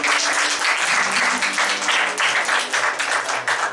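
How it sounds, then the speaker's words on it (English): A church congregation claps hands together, loud and close, a dense pulsing patter with a low tonal hum underneath running through the whole stretch. "begin with a clap of hands"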